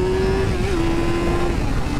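A Yamaha R7 OW-02 superbike engine pulls hard through first gear, a loud, sustained high-pitched howl holding a steady tone for about two seconds before the pitch jumps at the end.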